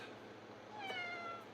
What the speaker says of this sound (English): The cat wants something.